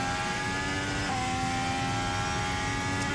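A 2026 Formula 1 car's engine drones at high revs along the pit straight during Bahrain testing, a steady, loud tonal whine with subtle pitch shifts as it builds and eases, heard alone.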